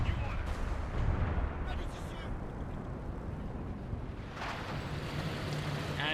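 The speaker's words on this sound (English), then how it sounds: "Sexton self-propelled artillery arrives here again, another rare display." Sexton self-propelled artillery firing in the Company of Heroes 2 war game, heavy booms and rumbling blasts blending into a dense, continuous battle din with a voice talking over it.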